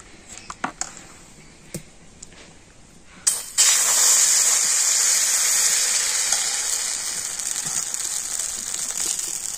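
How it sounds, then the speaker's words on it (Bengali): Rice-flour batter for dudh chitoi pitha hitting a hot oiled pan with a sudden loud hiss after a few small clinks, then a steady, sustained sizzle that slowly eases off. "আর এবার আমি 1 হাতা ব্যাটার নিয়ে দিয়ে দেব।"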